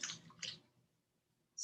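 Water trickles slowly into chickpea flour in two short splashy pours, close and fairly quiet, followed by a pause and then a sharper burst of pouring at the end.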